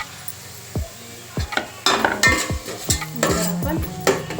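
Onion fries in butter for a pav bhaji tadka, a continuous sizzle broken by repeated scraping stirs and clinks of a spoon against the pan.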